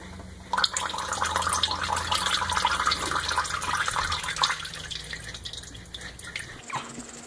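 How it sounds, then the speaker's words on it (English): Motor oil pouring and dripping from the removed oil filter of a 1996-2000 Honda Civic during an oil change, a steady close trickling splash that tapers off toward the end. "the oil is gonna drip from this"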